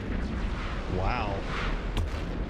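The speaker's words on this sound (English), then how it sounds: "That's a different kind of explosion than the other ones had." Spaceship blowing up in the space game EVE Online, a dense rumbling burst with a sweeping whoosh and a sharp crack near the end, loud and continuous over the whole span with no talk.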